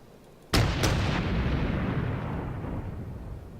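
A heavy warship gun salvo from the Japanese cruiser Chikuma in World of Warships, two sharp reports in quick succession followed by a long rumbling boom that slowly fades.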